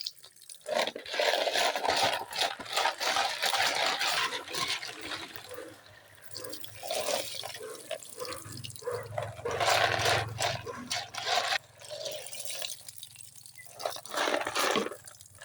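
Peeled papaya washed in water for ginataang papaya, continuous sloshing and running water for about fifteen seconds, fairly loud and close, with short breaks and scattered clattering.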